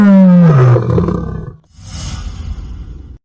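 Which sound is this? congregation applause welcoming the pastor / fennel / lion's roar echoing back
lion's roar echoing back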